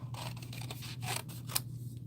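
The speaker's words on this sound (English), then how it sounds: "And then we need our scissors. We're just going to cut these out real quick." Scissors snipping through paper to cut out pieces, a quiet series of crisp irregular cuts and rustles close by, with no talking.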